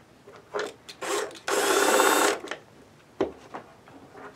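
A power drill driving screws into a Peavey amp cabinet, with short whirring bursts, one sustained run of about a second, and then a few brief taps, close and loud.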